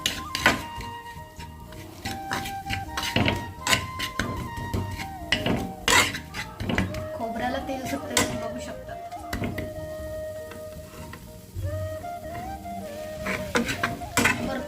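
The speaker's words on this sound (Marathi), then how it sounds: "लसूण असल्यामुळं ते खाली चिपकतं ते चिपकू नये याची काळजी घ्यावी चांगलं परतून घ्यावं" Garlic mixture stirred and sautéed in oil in a pan for a Maharashtrian dubuk vada rassa, with scattered clinks and scrapes of a utensil against the pan over steady background noise and music.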